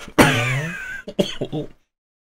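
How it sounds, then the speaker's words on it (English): A single harsh throat-clearing cough, close and loud, followed by a few short rough coughs before silence. "I'm going to cough."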